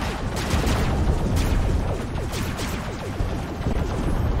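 Robot weapons fire in the Robocraft game in a rapid, continuous barrage of crackling shots and impacts, loud and dense for the whole stretch with no voices.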